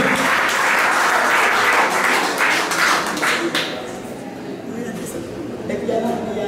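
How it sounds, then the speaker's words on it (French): A church congregation at a healing service applauds and cheers with loud, sustained clapping that tapers off near the end, while people talk over it. "Acclamez son mari, acclamez sa famille. Acclamez Jésus."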